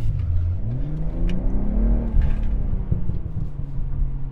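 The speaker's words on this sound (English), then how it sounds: "It sounds like engine noise" Engine sound from a 2023 BMW M340i, synthesized through the car's speakers, rises and falls as the car accelerates, a low droning rev with shifting pitch sweeps.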